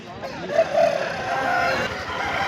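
A rooster crows once, fairly close, at a busy Sunday chicken market in Pileru, with crowd murmur and other birds in the background.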